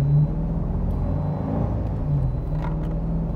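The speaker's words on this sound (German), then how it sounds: "Also es hört sich echt irgendwie Hot Rod NASCAR-mäßig an" A Subaru BRZ with a swapped LS3 V8 producing about 500 hp drives under way in fourth gear, its deep, continuous engine rumble droning steadily from inside the car.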